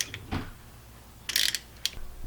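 A ratchet snugs down the fill plug on a Dana 30 axle, giving a few short bursts of close metallic ratcheting clicks separated by pauses.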